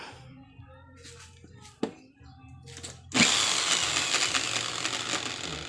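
A power drill spinning a DC motor for a voltage output test: soft handling clicks and a low hum, then the drill whirs up suddenly and runs loud and steady to the end.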